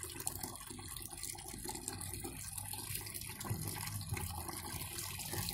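Rainwater runs from a barrel into a bucket in a steady, continuous rush and splash of filling water, close by and even in level throughout.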